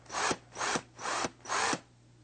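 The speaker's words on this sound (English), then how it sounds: "Alright, now we have our hole drilled." A power drill boring a hole with a 5/16 inch bit for a circuit bending project, running in four short, even bursts of rough whirring with brief pauses between them.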